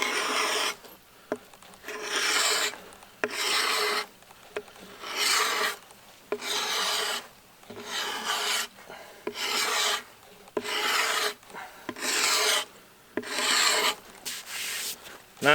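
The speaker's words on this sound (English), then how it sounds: "taking my draw knife, a 90-degree angle, and just shaving off" Draw knife shaving the high spots off a wooden fleshing beam in repeated rasping strokes, each lasting about a second with short gaps between them, close and steady with no talking.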